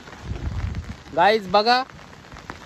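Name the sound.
heavy rain during village flood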